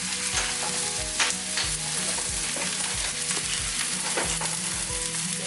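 Sliced green chilli frying in a pan, with a steady loud sizzle under a regular rhythm of spatula scrapes and stirs repeating about once a second throughout, no voices.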